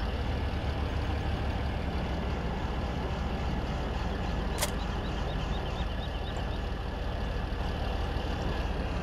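A tractor engine in the Farming Simulator game idles steadily at low pitch, a constant even rumble with no change in speed, plus one short bright click midway.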